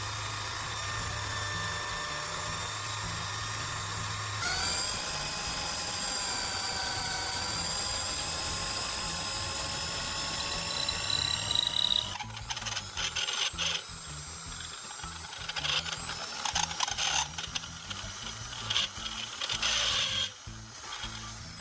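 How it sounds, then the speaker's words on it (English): A hand drill bores a hole straight through the centre of a wooden dowel held in a vise, giving a steady whining drone that shifts midway into rougher, grinding and rasping bursts, close by, with no talk. "Using a drill, I'm carefully boring a hole straight through the center of the dowel."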